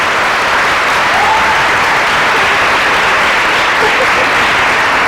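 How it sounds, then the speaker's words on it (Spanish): Loud, dense applause from an audience after a Spanish-language talk on unusual animal reproduction, thanking an organizer; continuous crowd clapping fills the whole stretch without pause. "Un aplauso para él."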